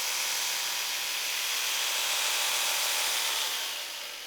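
A belt grinder fitted with an 80 grit belt rough grinds a Damascus hunter knife with an integral guard, a steady bright abrasive hiss running close and continuous before easing off at the end.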